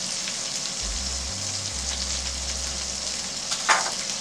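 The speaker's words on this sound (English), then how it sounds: "So I'm going to throw in just a little bit more butter." Butter sizzling in a hot pan for chicken stroganoff, a steady soft frying hiss with a brief scrape near the end, heard alone.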